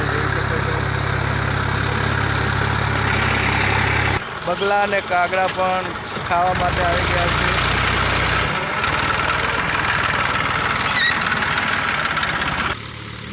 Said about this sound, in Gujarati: ટ્રેક્ટર ખેડે છે